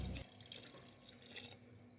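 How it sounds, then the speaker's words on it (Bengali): Water poured into a pan of fried vegetables and soybean dalia, a steady splashing rush after a brief louder start, close and continuous with no talk. "এবার আমি এর মধ্যে দিয়ে দেব পরিমাণ মতো জল"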